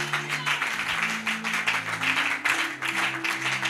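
Applause rolls steadily through a church congregation, a dense wash of hand claps over sustained organ or keyboard chords, continuous and fairly close.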